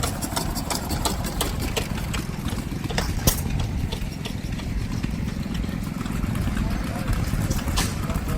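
Stationary gas engines run at an outdoor steam show, a steady mid-low idling chug with regular ticking beats and mechanical knocks, close and continuous throughout.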